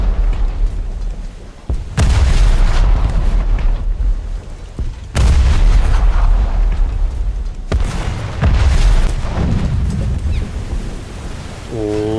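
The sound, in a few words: British frigate guns firing, from a naval video game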